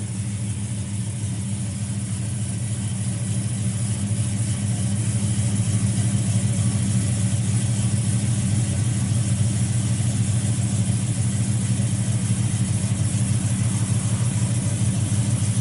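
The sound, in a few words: 1970 Plymouth Duster 383 V8 engine idling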